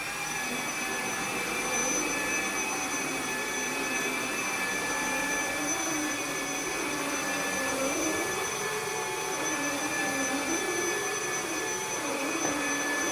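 A cordless wet-dry vacuum cleaner and mop runs steadily on max mode, a loud continuous whine with a low, shifting rumble underneath and no pauses throughout.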